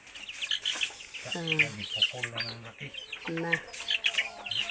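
A caught chicken clucks and squawks in short, strained bursts, close and fairly loud, amid small bird chirps, with a person speaking briefly in the background.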